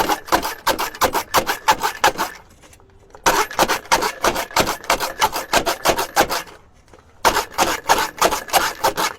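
A hand-turned onion chopping tool grinds and cuts onions in fast rhythmic bursts of clicking, rasping strokes, two pauses breaking the cranking, close and loud.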